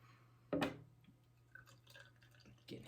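Beer from a can, Big Dawg Brewing's Mosaic Incognito, pours into a glass with a soft splash, then quiet fizzing and light dripping, fairly faint.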